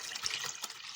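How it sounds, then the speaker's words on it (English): Water poured from a tap into a jug of already brewed tea, a steady bright splashing and trickling that fills the whole second, close and fairly loud with no talk. "I'm just going to pour water in here"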